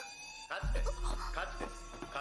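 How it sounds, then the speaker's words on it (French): An alarm goes off in the Agents of the Four Seasons video game, a loud electronic blaring that starts abruptly and pulses steadily for a couple of seconds. "Pourquoi ça fait sonner l'alarme?"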